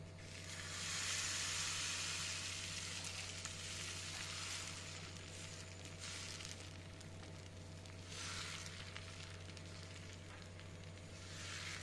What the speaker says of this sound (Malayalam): ഇനി ഇത് ദോശക്കല്ല് ചൂടാകുമ്പോൾ കോരി ഒഴിച്ചിട്ട് ദോശ ചുട്ടെടുക്കാം.